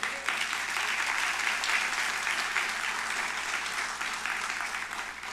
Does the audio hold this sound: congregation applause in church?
yes